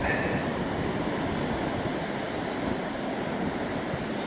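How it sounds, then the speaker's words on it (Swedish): Ocean waves wash onto a warm beach as the tide comes in, a continuous broadband rush of surf mixed with wind noise, steady and fairly close, with no voices. "När tidvattnet kommer in så kommer också vågorna."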